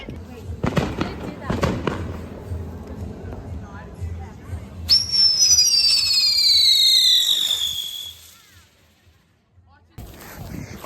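Fourth of July fireworks and firecrackers crack loudly in a few close bangs, followed by a long whistling, screeching rocket, with excited people talking throughout.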